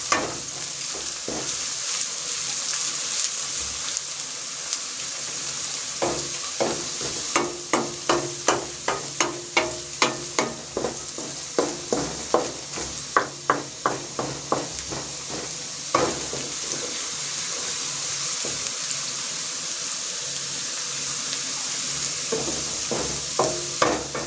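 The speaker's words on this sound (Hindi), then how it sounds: "अब इसमें 1 टीस्पून जो है हम लहसुन अदरक का पेस्ट शामिल कर देंगे और इसको हम अच्छी से 1-2 मिनट के लिए भून लेंगे" Onions fry with garlic-ginger paste in a pan for a restaurant-style white chana dish, a constant sizzle broken by a long run of sharp, rhythmic stirring clacks of a spoon against the pan. No one speaks.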